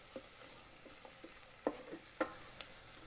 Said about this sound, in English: Ginger and garlic is fried with onions.